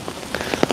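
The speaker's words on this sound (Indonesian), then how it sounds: "Hujannya belum reda-reda lagi." Rain falls during an evening dinner event at the Indonesian embassy in Beijing: a brief, soft patter of scattered drops hitting a surface nearby, with no voices.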